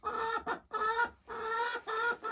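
Laying hens clucking in short, repeated bursts, close and fairly loud, with brief pauses between the calls and no voices over them.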